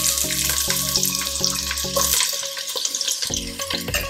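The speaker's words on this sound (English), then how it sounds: "Okay, the pan is pretty hot now, so I'm gonna go in with my onions." Onions hit a hot pan of oil with a bright, continuous sizzle and frying hiss, close and steady, over a repeating low tonal background.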